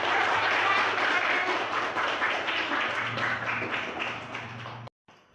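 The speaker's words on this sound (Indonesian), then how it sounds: "Tepuk tangan" A class of students applauds together in a classroom, producing a fairly steady patter of clapping over a low hum that fades slightly before cutting off abruptly.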